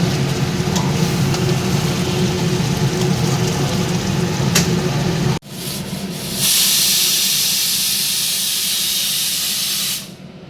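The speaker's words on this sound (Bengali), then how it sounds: "এখন একটু কুকারে দিয়ে সিটি দিয়ে দেব" A pressure cooker with mutton hisses steam loudly and steadily, then cuts off abruptly and resumes as a brighter, sustained jet of escaping steam that stops near the end.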